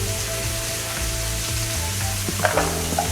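Pork chops fry in a pan with a little oil and seasoning, sizzling steadily up close while being stirred, with a few scraping utensil sounds near the end and no talk.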